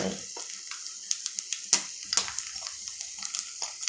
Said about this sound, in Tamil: முட்டை உடச்சி ஊற்றிட்டு சால்ட்டு போட்டுட்டு